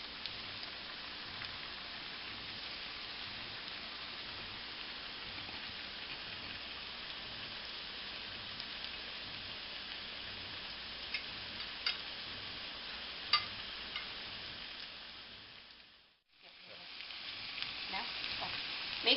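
Plantain slices frying for tostones in hot oil, a steady dense crackling sizzle held at even strength throughout, with a brief dip near the end, and no talking.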